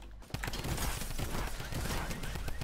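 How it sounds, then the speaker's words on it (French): Rapid gunfire in Fortnite, dense overlapping shots crackling in a near-continuous fusillade, loud and close with no talking over it. "J'entends tirer."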